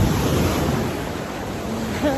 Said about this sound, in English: you see the pretty big waves coming in